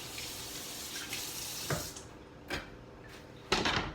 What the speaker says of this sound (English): Let me quickly rinse my hands.